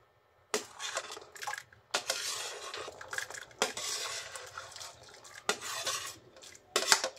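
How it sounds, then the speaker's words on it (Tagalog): Corn tipped into a pot of sticky rice for ginataang mais at malagkit, followed by a spoon scraping and stirring against the pot in several bursts of clattering, close by with no talking. "Lagay na rin natin ang ating mais."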